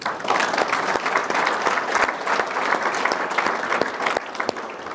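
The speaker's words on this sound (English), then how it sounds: "A round of applause to all of you." An audience applauds finalists at a wrestling awards ceremony with steady, dense clapping that carries on for several seconds, faint crowd murmur underneath and no voice over it.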